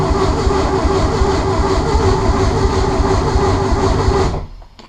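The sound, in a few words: Ford Escort ST170 engine cranking over, not starting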